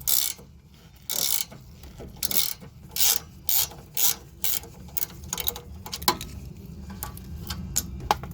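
A hand ratchet works loose the rear sway bar link nut on a Toyota Camry, giving a string of loud, close, evenly spaced clicking bursts with brief pauses between strokes, over a low mechanical rumble and with no talking.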